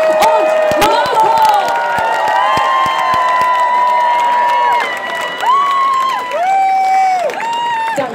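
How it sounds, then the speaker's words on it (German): A crowd at the Munich Pride (CSD) 2018 event cheers and applauds steadily, with loud whoops and shouts over continuous clapping that swells and dips throughout. "wir geben einen hohen Applaus für unsere beiden Doktor-Werden-Dolmetscher, Tanja und Marco."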